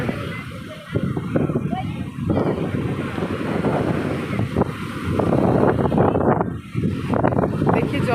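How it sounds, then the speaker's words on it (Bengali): Wind and sea waves wash in at night near a seaside jungle temple, a loud continuous rush with heavy wind buffeting the microphone and surging swells. "হাওয়া আর জলের ঢেউয়ের আওয়াজ সুন্দর"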